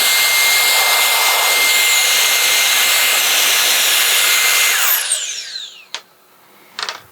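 A cordless compact Solareye air duster set to speed 3 gives a loud, steady rushing blast for about five seconds. The motor then winds down in a falling whine, followed by a couple of short, sharp bursts.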